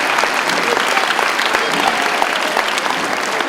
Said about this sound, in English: So yes, they deserve a wonderful round of applause.